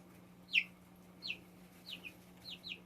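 Young chickens in an indoor brooder give a series of short, high peeping chirps, spaced out irregularly over a quiet background with a faint steady electrical hum.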